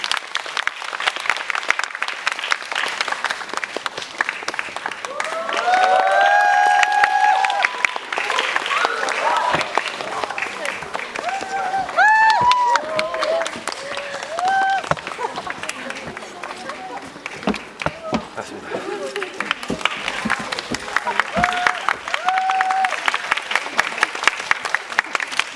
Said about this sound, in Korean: 허준호 감독님, 손예진 씨, 박해일 씨, 정상훈 씨 박수로 맞아주세요.